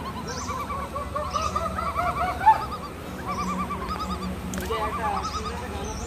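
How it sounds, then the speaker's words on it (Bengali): Birds call in a dense forest on Hajir Char in Monpura, a busy overlapping mix of warbling and honking cries, fairly close, with faint voices underneath. "পাখি, পাখির কলাকুলি ডাক।"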